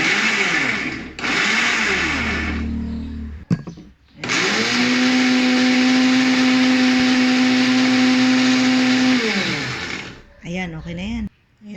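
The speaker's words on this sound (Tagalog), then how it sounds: "Eh, blender natin." A blender whirs loudly and steadily for several seconds, its motor pitch holding even, with brief talk before and after.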